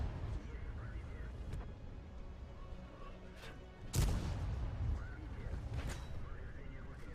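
Tank cannon fire in World of Tanks, a T1 Heavy trading shots with Soviet heavy tanks, comes as one sharp booming shot midway over a steady low rumble, with someone talking throughout.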